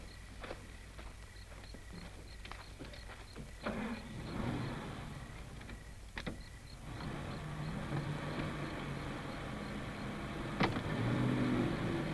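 An old 1940s car rolls along the road with a steady low engine rumble and road noise, broken by a few sharp clicks and knocks, with no talking.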